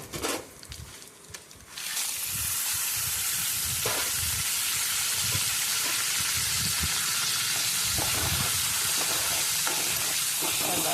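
Spices hitting hot oil for tempering coriander chutney, a sudden loud sizzle that settles into steady crackling and frying, with a few soft stirring knocks.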